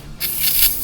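An aerosol can of WD-40 gives a short, close, hissing spray onto fuel pump parts from a Commodore VY V6, lasting under a second.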